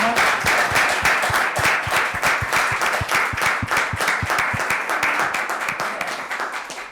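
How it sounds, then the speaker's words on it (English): Audience applause after a fellowship presentation at a theological seminary in Pittsburgh, a steady, dense burst of clapping from a seated crowd that holds for several seconds and tapers slightly at the end. "Let us give a round of applause."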